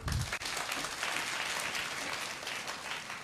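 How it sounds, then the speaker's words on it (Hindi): A seminar audience at a talk with an IAS topper breaks into steady, even applause, a continuous wash of many clapping hands heard at moderate volume from a short distance. "तालियां बजाइए इनके लिए"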